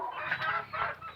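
A small desi hen on a poultry farm clucks in a steady run of close, mid-pitched calls lasting about a second, with no talk.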